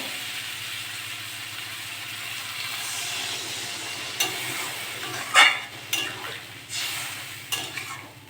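Spices sizzling and being stirred in a pan for a taro and bhetki-style fish curry with pumpkin, a steady soft frying hiss with a few sharper scraping stirs near the end, close and moderate, no voices.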